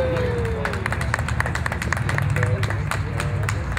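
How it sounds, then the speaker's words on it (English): A crowd at a Christmas parade ceremony applauds steadily, with dense overlapping claps and murmuring voices beneath. "Give a round of applause"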